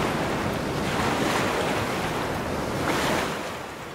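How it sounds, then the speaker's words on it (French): Storm-driven waves pound the pebble bank protecting Cayeux-sur-Mer during Storm Ciara in February 2020. A constant, loud roar of surf and gusting wind fills the whole stretch, swelling briefly near the end before easing slightly. "il poussait les vagues bien plus haut qu'à l'accoutumée sur le cordon de galets qui protège Cailleux-sur-Mer"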